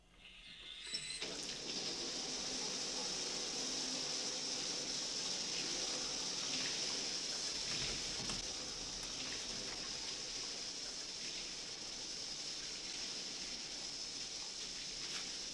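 A shower runs indoors as a steady, even hiss of falling water that starts abruptly and continues unbroken, fairly soft and with no talking.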